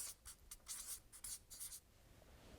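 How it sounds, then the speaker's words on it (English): Pen scratching across paper as a single word is written by hand, a few quick close strokes in short bursts, then quiet. "So I'm just going to write down barriers."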